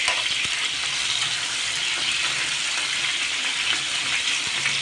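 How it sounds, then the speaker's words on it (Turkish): Steady, dense sizzling of chicken drumsticks frying in hot oil, crackling continuously without pause and with no voices. "Evet, tavuk bagetlerim güzel güzel kızarıyor."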